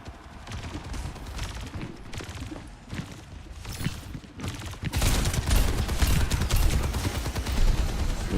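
Rapid video-game gunfire from a third-person shooter match, crackling in dense bursts that grow louder and more continuous in the second half, with layered impacts and game effects.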